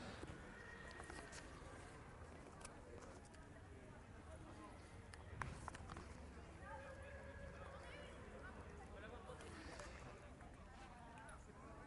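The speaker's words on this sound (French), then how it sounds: "on présente les chevaux au pas, et puis après posés, et puis après on les fait trotter" Horses being shown at a horse show whinny several times with faint hoof clops beneath, mixed with background crowd chatter and an outdoor murmur at moderate distance.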